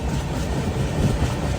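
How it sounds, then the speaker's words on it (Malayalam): The Grand Trunk Express rumbles into Bhopal Junction, a close, loud, steady roar of the moving train with no voices. "മധ്യപ്രദേശിന്റെ ക്യാപിറ്റലായ ഭോപ്പാലിലേക്ക് ഇതാ നമ്മുടെ ട്രെയിൻ എത്തിക്കൊണ്ടിരിക്കുകയാണ്"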